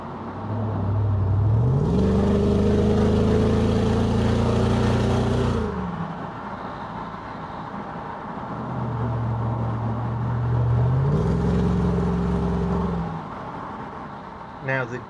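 Jaguar XK8 engine climbing in pitch as it revs, holding high, then dropping away as the throttle eases off; a second, softer rise and fall follows, close and steady.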